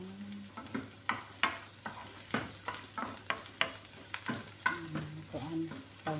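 Onions fry in a pan with a continuous sizzle punctuated by rhythmic scraping strokes of stirring, close and fairly quiet, with faint tonal hum in the background.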